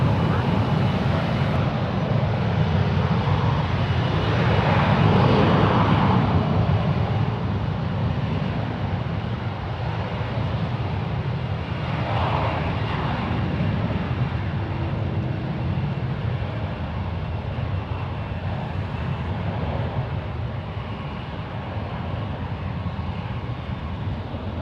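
A United Airlines Airbus A320 performs a go-around at San Francisco International Airport. Its jet engines give a broad, sustained roar that swells early and then slowly fades as the plane climbs away.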